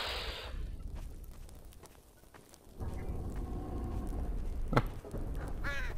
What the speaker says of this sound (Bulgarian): Птиче!